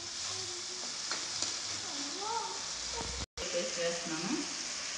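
A spice paste for an Andhra-style dish sizzling as it goes into a hot pan, a soft continuous hiss and fry close by, with a voice speaking over it and a brief dropout.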